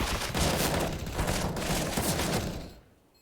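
Rapid, sustained automatic gunfire in Counter-Strike, loud and close, a dense rattling burst that runs for nearly three seconds before cutting off and dying away.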